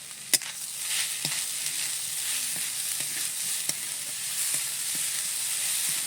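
Grated coconut with sugar stirred in a pan, a soft sizzle underneath with scattered scrapes and clicks of the spoon against the pan at an irregular pace, fairly quiet and close, no talking.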